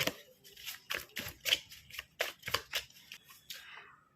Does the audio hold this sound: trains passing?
no